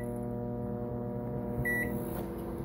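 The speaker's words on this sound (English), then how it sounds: "Let's put this in the microwave for 2 minutes." A microwave oven hums steadily while cooking popcorn, a constant mechanical drone with a brief beep near the end; no voices.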